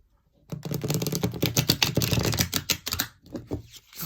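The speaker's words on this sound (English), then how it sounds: "One more shuffle's going to do it." Rapid, crisp flicking and riffling of a deck of tarot cards being shuffled close by, ending in a few slower taps.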